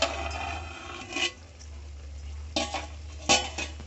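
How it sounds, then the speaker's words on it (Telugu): A spoon stirs amaranth leaf (totakura) curry in a pan in brief scraping bursts, separated by quiet stretches under a steady low hum. "ఒకసారి అడుగు అంటుకోకుండా కలుపుకుందామండి"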